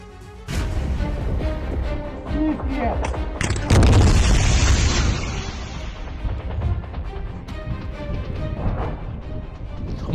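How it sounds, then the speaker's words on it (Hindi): Rocket launcher attacks in battle at Bakhmut, with heavy booming blasts and a rushing roar of launches, loud and rumbling, with other detonations and noise trailing on. "रॉकेट लॉन्चर से इसने दुश्मन के खेमे पर एक के बाद एक कई अटैक किए।"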